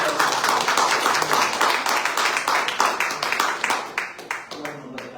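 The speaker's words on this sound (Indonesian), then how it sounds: "Beri tepuk tangan." A church congregation claps enthusiastically in dense, rhythmic bursts that gradually thin out and soften toward the end.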